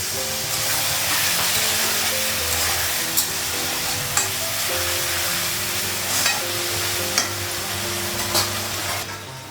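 Loud, steady frying sizzle of spice paste and water in a pan, with intermittent clinks and scrapes of stirring throughout.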